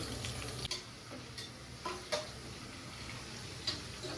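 Onions fry in oil with spices for chicken donne biryani, giving a quiet, steady sizzle broken by a few faint ticks and scrapes from stirring, with no talking.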